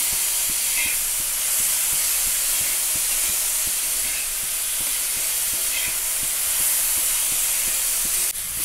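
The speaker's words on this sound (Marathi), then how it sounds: "छान असा दोडका चांगला भाजून झालाय तेल टाकून" Ridge gourd roasting in oil with salt in a pan gives a steady broadband hiss and sizzle, close and continuous, with faint regular ticks beneath it and no talking.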